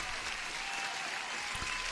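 A short burst of audience applause honoring a successful trader during a live futures trading session, a steady wash of many hands clapping at moderate level with no words spoken.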